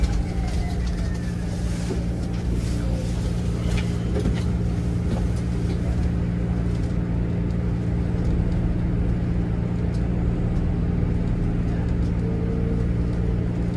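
Riding inside a brand new Toronto TTC New Flyer XDE60 hybrid articulated bus: a steady low engine and road drone fills the cabin throughout, with no talking.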